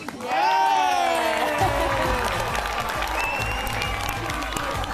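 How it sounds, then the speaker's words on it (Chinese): Studio audience at a Chinese variety show applauding after an acting improv, dense clapping and some cheering swelling quickly and holding steady at full volume, with a low rumble underneath. "来，掌声鼓励！"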